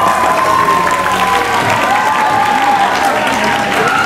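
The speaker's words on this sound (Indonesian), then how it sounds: "Berikan aplaus yang meriah." Audience at a school student council (OSIS) candidate debate applauds and cheers as a candidate pair is called up, a dense, steady clapping crowd filling the whole stretch with some voices mixed in.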